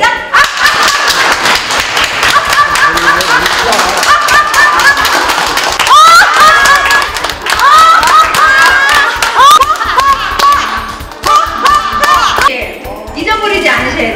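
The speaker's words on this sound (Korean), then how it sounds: "입을 쭉 찢으면서 박수." A laughter-therapy group claps in quick rhythm while voices laugh and shout loudly over it, the clapping running beneath forced laughter for the whole stretch.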